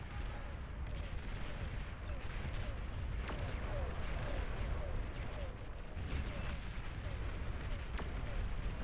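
Dense, continuous rumbling bursts of pulsar cannon fire in the game Beyond All Reason, with repeated sharp blasts and booms layered over a steady roar, loud and unbroken throughout.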